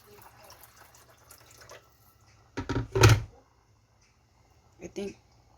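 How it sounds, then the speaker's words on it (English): Water poured into a pot of Korean spicy chicken stew (dakdoritang) in a home kitchen, a short splashing pour near the middle and another brief pour toward the end, with quiet kitchen noise around it. "Now let's add water."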